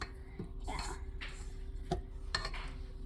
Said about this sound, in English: you might need to scrape the side of the bowl or the blade for a few times